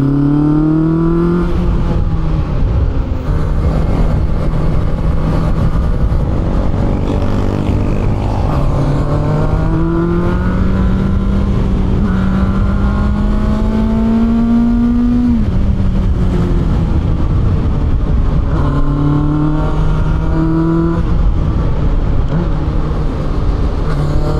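A Benda LFC 700 motorcycle pulls away on take-off, its engine note climbing through rising revs with gear-change dips and repeated surges, loud and close for the whole stretch.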